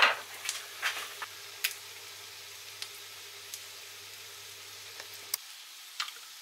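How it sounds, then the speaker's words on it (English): Fish cakes frying in a pan of oil, a soft steady sizzle with scattered crackles and pops close by, the sizzle cutting off near the end and leaving a few faint pops. "we're just frying these to heat them through and to give them that lovely brown colour"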